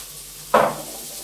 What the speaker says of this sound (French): une poêle avec un petit peu d'huile d'olive dedans, on va faire revenir les oignons et l'ail que nous avons hachés finement